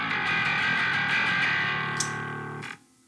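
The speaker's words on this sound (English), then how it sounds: "You can remove various low frequencies from the distorted signal so that you still get plenty of note definition" Bass guitar run through the Neural DSP Parallax parallel bass amp-sim plugin, a sustained distorted note with a dense, buzzing grind held steady for nearly three seconds before cutting off abruptly, with no talking.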